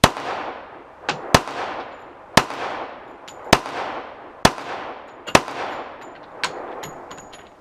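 A 1911 pistol firing revolver ammunition lets off seven or eight sharp, loud shots at an uneven pace, each followed by a ringing decay, with no talking.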